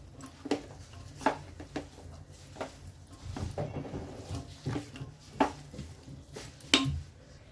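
Beans, peas and vegetables for Surti undhiyu are stirred in a cooking pot, giving soft irregular scrapes, knocks and squishy clatters of a spoon against the pot, close and fairly quiet.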